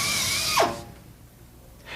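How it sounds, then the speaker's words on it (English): Tech S1035 500 RPM air drill with a Tech 272 carbide cutter buffing the inside of a tire, a loud close whine that drops sharply in pitch as the tool spins down, then near quiet before a faint hiss returns. "Use a Tech 272 carbide cutter on a Tech S1035 500 RPM air drill."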